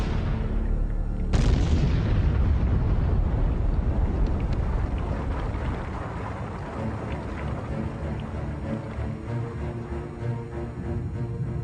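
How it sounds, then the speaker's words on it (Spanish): Meteorite bombardment impacts: a sudden heavy boom strikes, followed by a dense, continuous rumbling roar of crackling debris that slowly eases but keeps pounding underneath. "enormes meteoritos la alcanzaban en un bombardeo incesante"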